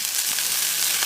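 Green chillies frying in cooking oil outdoors in a village kitchen, a steady close sizzle with soft crackles throughout, no talking.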